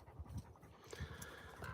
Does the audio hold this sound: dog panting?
yes